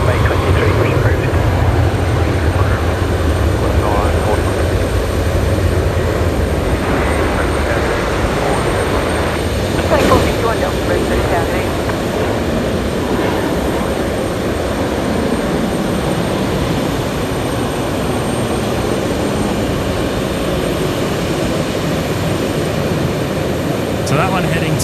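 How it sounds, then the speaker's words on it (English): A Qantas airliner departs runway 19 left at Brisbane Airport in the evening, its jet engines producing a sustained, broad roar that holds steady at a distance while people talk over it. "So that one heading to Auckland this evening, blasting off runway 19 left."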